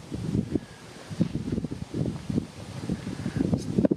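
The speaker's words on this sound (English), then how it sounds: "It's freaking windy out." Gusty wind buffets the microphone in low, uneven rumbles, rising and falling continuously with faint rustling over a few seconds.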